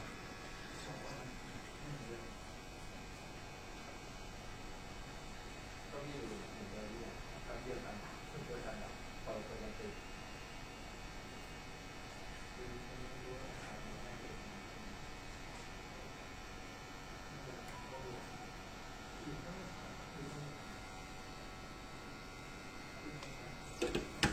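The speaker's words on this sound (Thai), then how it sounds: "ก็ใช้ฮอตแอร์นะครับ เป่า" Hot air rework station blowing steadily on a Dell Vostro 14-3459 laptop motherboard to desoldering a USB part, a constant airy hiss and hum under a man's intermittent speech.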